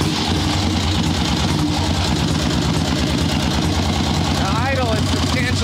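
A swap meet chopper motorcycle engine running close by, a steady loud idle with a rough, even low rhythm, and brief talk over it near the end.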